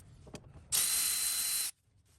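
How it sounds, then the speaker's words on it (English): Milwaukee electric ratchet with a 10mm socket on a short extension loosening a hose clamp during Toyota 2.4L 2RZ-FE valve cover work: a single loud, close whirring burst lasting about a second after a faint click. "I'm going to use my Milwaukee ratchet with a short extension 10mm socket, and I'm going to loosen the clamp right here."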